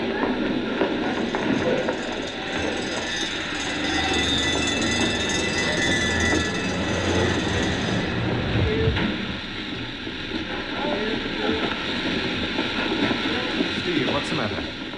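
A train runs with a steady rumble and the clatter of wheels and carriages, heard under people talking, with a brief squeal partway through.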